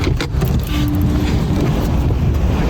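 Steady car engine idling close by through a traffic stop in Florida, a continuous low rumble with a faint tonal hum partway through and no voices.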